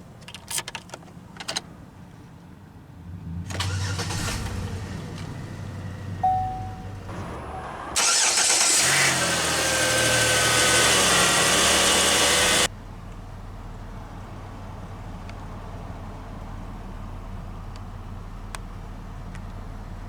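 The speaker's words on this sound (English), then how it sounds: "let's go ahead and start the engine." A 2011 Chevrolet Impala LS starting up from the driver's seat: a few clicks and a brief crank, a louder surge as the engine catches, then settling into a steady low idle rumble inside the cabin.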